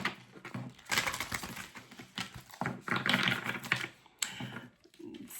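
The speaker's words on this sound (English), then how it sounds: "One more shuffle, then I'm going to split the deck and get the message." A deck of tarot cards being shuffled by hand, bursts of riffling, flicking card noise in quick uneven runs with brief pauses, close and fairly loud, no voices.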